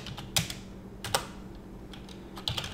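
Typing on a computer keyboard while entering commands for Java programming, with sparse, uneven clusters of key clicks over a quiet background and no voices.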